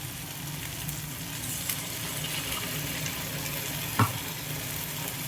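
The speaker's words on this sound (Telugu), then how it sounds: "ఇప్పుడు దీంట్లో కొంచెం నీళ్ళు పోద్దాం" Steady sizzling of frying masala fills the clip, with a brief louder splash near the end as water is poured into the hot pan.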